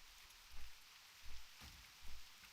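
Rain in World of Warcraft Classic falls as a soft, steady hiss, with a few low, muffled thumps rising briefly over the quiet wash.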